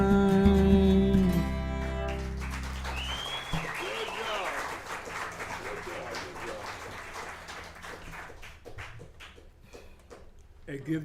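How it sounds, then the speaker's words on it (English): A live audience at a variety show claps for performer Don Rivers, warm applause fading out under music and someone talking. "give Don Rivers another round of applause"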